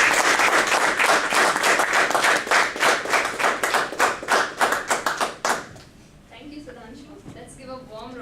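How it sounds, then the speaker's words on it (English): Audience applause at a Toastmasters installation ceremony, with brisk, rhythmic clapping for several seconds, fading out as a voice begins speaking. "And let's have a big round of applause for Sumaya Sultana, the Toastmaster."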